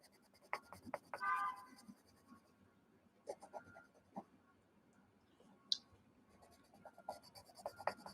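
Colored pencil scratching across the paper of a coloring book, in soft, intermittent strokes with small clicks and pauses, quiet and close, with no talking.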